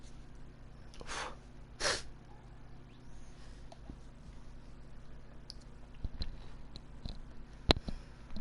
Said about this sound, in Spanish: Otra vez es el estornudo, tío.